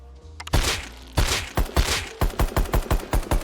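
An SAR semi-automatic rifle in the Rust video game fires rapidly, a few spaced heavy shots followed by a quick, evenly paced string of about nine loud, close reports, with no talking.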